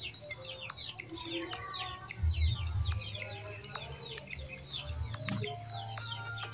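Two month-and-a-half-old chicks chirping, with many rapid, high peeping calls close by in quick irregular bursts over a low background hum.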